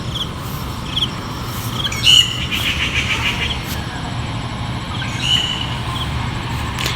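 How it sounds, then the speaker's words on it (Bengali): Small birds chirp intermittently in short, bright bursts at a moderate distance, over a steady low background rumble. "পাখির কিচিমিচি শব্দ খুব ভালো লাগতেছে"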